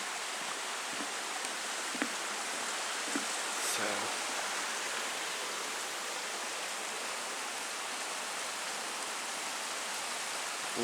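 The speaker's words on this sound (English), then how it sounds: "We're going to cross a creek." Steady broadband rush of a small mountain creek flowing beneath a little footbridge on a wooded Grandfather Mountain trail, continuous and fairly close, with a few faint knocks and footfalls over it.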